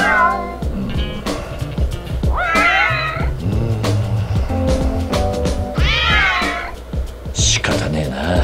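Several cats meow repeatedly in the Yakuza 6 video game, their cries rising and falling over in-game music and noises, with a voice speaking in between.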